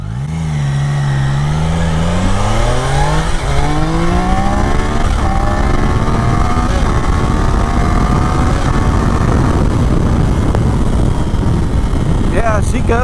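A 2024 Triumph Daytona 660 motorcycle revs up through the gears while being ridden, its engine pitch climbing steadily under loud wind rush, close and continuous, with a voice talking over it.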